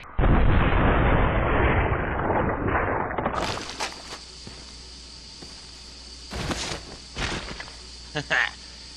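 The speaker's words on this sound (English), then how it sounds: "I'm gonna take it to a few zombies' heads for the awesome explosive headshot." Magnum revolver shots blowing apart zombie heads in a video game: a loud, dense roar opens, then after a sudden cut a few sharp separate bangs ring out over quieter game ambience.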